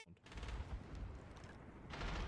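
Bursts of close gunfire ring out during a Rainbow Six Siege esports match and run in rapid, dense clusters with a loud flurry near the end. A commentator talks over the shooting.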